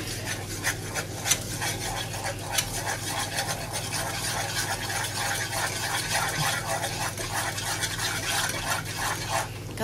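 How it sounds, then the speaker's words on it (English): Steady scraping and rubbing of a utensil stirring flour into melted butter over high heat to make a roux, a continuous rhythmic stir with faint sizzle beneath. "Melted butter, be gentle with the flour on a high heat."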